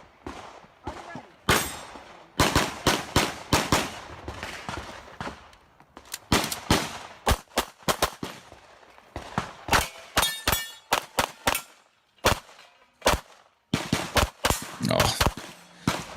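Rapid strings of gunshots with sharp metallic clangs of steel targets at the USPSA Optics National Championship shooting match, loud and close, coming in quick bursts separated by short pauses across the whole stretch.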